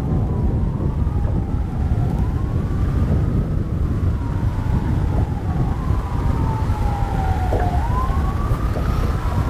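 Police sirens wail in the distance, several rising and falling tones overlapping and sweeping across a constant loud wind and outdoor rumble near water.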